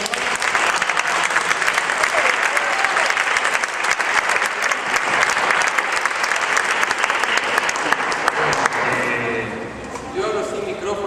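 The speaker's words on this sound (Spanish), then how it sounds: "le pido un aplauso a Walter" Sustained audience applause fills a congress hall, dense and steady throughout, tapering slightly near the end as a few voices emerge.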